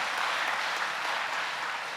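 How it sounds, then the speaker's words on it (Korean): Applause from an audience at a revival meeting hall, a dense, steady wash of many hands clapping that carries on throughout without a break. "박수 한번 보내주세요."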